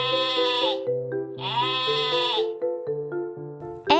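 A cartoon character imitates a sheep's bleat, giving two long wavering baa calls in a raised voice. Background music with a steady beat plays underneath.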